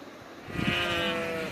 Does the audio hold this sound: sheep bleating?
yes